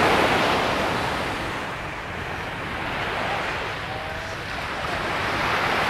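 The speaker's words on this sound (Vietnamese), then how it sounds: "giờ đi dạo biển cho có không khí, không khí biển" Sea waves washing onto the beach along Tran Phu street in Nha Trang, a steady, loud broadband roar of surf that swells and eases slightly, with some wind noise on the microphone.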